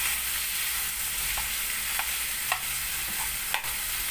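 Chicken, marinated like longganisa, sizzles in a hot pan with a constant frying hiss, interrupted by a few sharp scrapes and taps as it is stirred.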